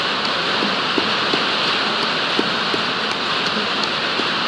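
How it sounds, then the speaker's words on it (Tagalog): Sudden rain pours down steadily, a dense continuous hiss with scattered close drips and taps on a surface, loud and even throughout with no voices. "Bigla naman na ulan."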